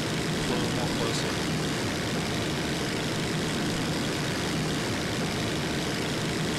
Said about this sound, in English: this one, because it has a little bit more powerful engine, flies a lot